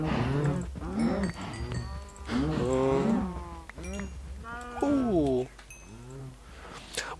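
Several Minecraft cows moo in a crowded pen, a run of long, overlapping, fairly loud bellows one after another, heard with no talking.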